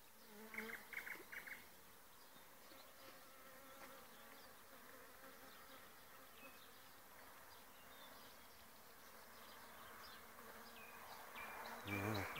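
Bees buzz faintly and continuously in the open air around flowering rosehip bushes in May, with a few brief louder passes up close and soft outdoor background.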